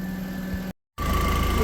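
A warmed-up Audi TT MK1 engine idles steadily during a coolant pressure check for a leak, a low even hum with a faint chatter, briefly broken by a short silent gap.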